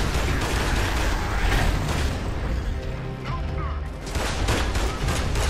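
Dense gunfire and booming impacts from Gears of War: Judgment combat against big enemies, loud and continuous with bursts of shots throughout, mixed with game noise.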